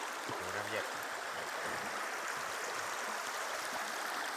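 Steady, even rush of a flowing stream or small waterfall outdoors in a Swedish forest, filling the whole clip at moderate loudness, with a brief voice near the start.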